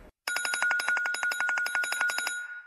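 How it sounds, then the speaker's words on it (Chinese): A telephone rings for an incoming call on a comedy sketch stage, a loud, rapid electronic trill of repeated pulses that runs continuously for over two seconds after a brief silence. "我媳妇来电话了"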